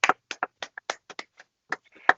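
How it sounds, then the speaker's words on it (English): Uneven, sparse hand claps from a few people, sharp separate smacks at irregular intervals with silence between them, the last one loudest. "Oh, clap Ruby."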